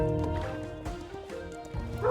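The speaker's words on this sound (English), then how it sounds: "And dog's barking, so I know there's enemies coming" Dog barking in the video game Kingdom: Two Crowns, a few short yips and barks over a busy in-game music bed, moderately loud and close.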